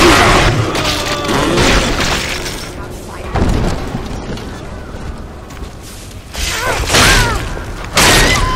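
Deep booming bomb blast in BioShock 2, a heavy explosion that rolls into rumbling, creaking mechanical debris, with several further loud thuds and bursts over about eight seconds.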